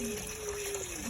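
Water runs steadily into a container with a continuous close gushing rush that holds level and unbroken for about a second, quiet overall.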